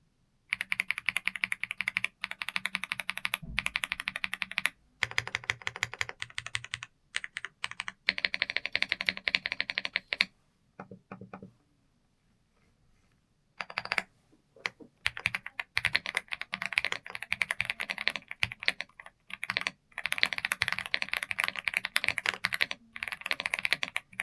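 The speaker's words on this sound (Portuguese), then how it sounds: "vamos já ao nosso querido e amado teste de digitação, né? Tô bem curioso para ver como esse teclado se comporta." Rapid clicking keystrokes on an Aula F75 mechanical keyboard come in dense bursts during a typing test, with short pauses and one longer near-silent gap midway, close and crisp with no talking.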